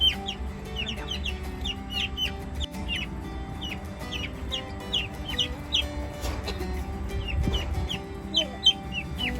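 Chickens cluck and chatter steadily in short, quick calls, fairly close, over a low background hum.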